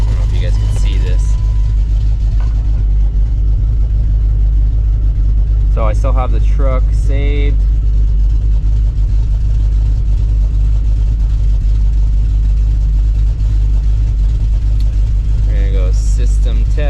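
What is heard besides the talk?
cammed Dodge Dakota R/T engine running, exhaust leak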